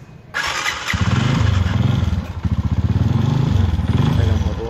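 A red Honda Master 125cc motorcycle engine starting up close: a short starter whir, then the engine catches and settles into a loud, rapid, pulsing idle that holds steady.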